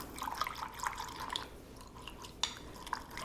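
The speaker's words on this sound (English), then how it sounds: "So I'm going to whisk that up" A whisk clinks and taps against a bowl while mixing a salad dressing of orange juice, lemon juice, red onion, honey, salt and pepper, giving quiet, irregular light strikes and soft liquid sloshing.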